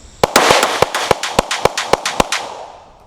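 Handgun fire at a target from a Glock 43 or Sig P365 pistol: a rapid string of about a dozen loud, close, cracking shots, each followed by a ringing echo.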